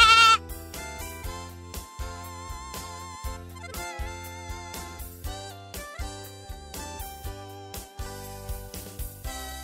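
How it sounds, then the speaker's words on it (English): A goat bleats loudly at the start, a wavering animal cry standing alone over a bright, steady musical backing from a children's learning activity about mother animals and their young. "Goat,"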